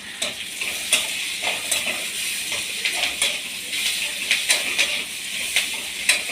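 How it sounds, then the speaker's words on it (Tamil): Onions with curry leaves, garlic and ginger sauté in hot oil for tomato chutney, a loud steady sizzle close by, broken by rhythmic scrapes and stirring clicks of a spoon in the pan, with no talking. "அதை கொஞ்சம் வதங்கட்டும்"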